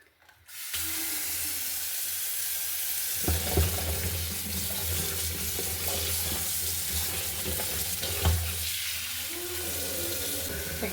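Water runs steadily from a tap with splashing and rinsing as green chilies and water apples are washed under the stream, close by, with no talking.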